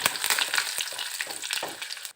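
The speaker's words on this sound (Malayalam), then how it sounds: "കടുക് പൊട്ടി വരുമ്പം കുറച്ച് വറ്റൽമുളക് ഇട്ട് കൊടുക്കാം കുറച്ച് കറിവേപ്പില ഇട്ട് കൊടുത്തിട്ട്" Mustard seeds, dried red chillies and curry leaves crackle and sizzle in hot oil for a mango pickle tempering, a dense, close, continuous spattering with sharp pops and no voices.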